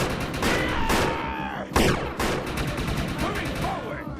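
Loud, rapid automatic gunfire and heavier blasts in the video game Defiance, with dense bursts of shots, a sharp explosion partway through and a voice speaking briefly amid the firing.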